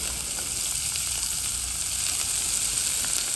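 Green chilli, ginger and onion fry in hot oil for an instant idli and sambar, giving a steady, close sizzle throughout with faint crackles and no talking.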